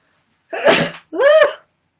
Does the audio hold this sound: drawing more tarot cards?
no